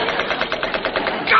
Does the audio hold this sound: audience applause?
no